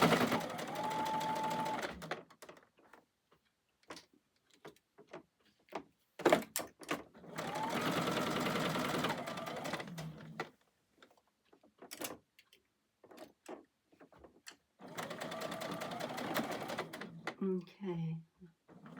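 A sewing machine stitches a fabric bowl coozie in three long runs of steady mechanical whirring, separated by pauses filled with handling clicks and some talk.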